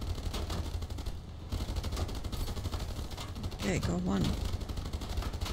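Gunfire in the naval video game Age of Water, heard as rapid shot bursts that run under a voice commenting on play, with loud game sound filling the whole clip.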